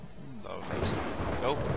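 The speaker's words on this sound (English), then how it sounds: "Oh, gosh, there's a storm." A storm in the Tomb Raider video game breaks with a deep rumbling thunder-like boom that swells and rolls over a low roar, while a voice briefly speaks early on.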